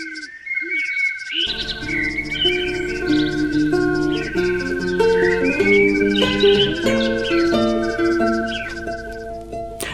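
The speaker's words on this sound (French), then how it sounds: "Soir et matin, les chants des oiseaux la bercent." Birdsong in a storybook setting: bright chirps and tweets over a bed of sustained melodic music, with layered trills continuing throughout at moderate loudness.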